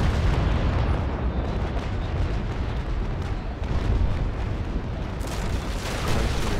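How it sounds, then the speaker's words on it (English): Heavy cannon fire from sailing warships during a port battle in the naval game Naval Action: dense, continuous booming broadsides and rumbling blasts that fill the whole stretch at high volume, with no clear gaps. "I started shooting."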